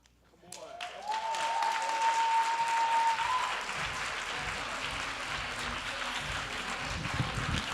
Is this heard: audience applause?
yes